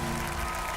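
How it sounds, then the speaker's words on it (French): Dense, steady applause from a standing audience at a televised children's singing competition, a continuous wash of clapping filling the whole short moment. "Tout le monde est debout pour l'applaudir"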